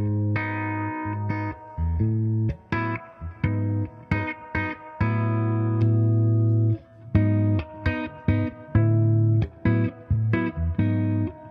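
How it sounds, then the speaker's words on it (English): Electric guitar, a Gibson Les Paul Firefly, plays a series of chords and single notes with heavy added reverb and a long tail, each strum ringing out and washing into the next. "We'll put extra reverb on it."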